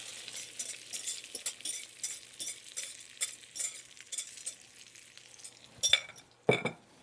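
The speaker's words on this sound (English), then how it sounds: "And just give that a little bit of a stir, just to get it cooking a little bit" Frittata egg mixture with pickled peppers and corn being stirred in a hot pan, a soft sizzle broken by light scraping strokes and, near the end, a couple of sharper metallic clinks, close and without talk.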